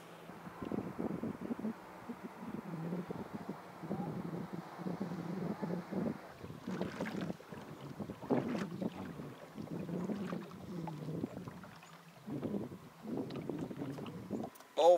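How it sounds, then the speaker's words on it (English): A wake boat passes along a river channel, heard as a low, steady engine drone with wind buffeting the microphone, while someone talks in broken phrases over it throughout. "Here comes that wake boat."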